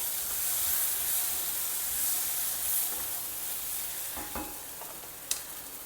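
Spiced prasadam mixture with dry mango powder stirred in a pan, a soft steady scraping sizzle with faint hiss, a couple of light utensil knocks near the end and one sharp clink.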